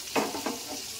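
Bhetki fish pieces frying in a pan, a soft continuous sizzle with two brief louder bursts of spatter near the start, quiet and close with no talking.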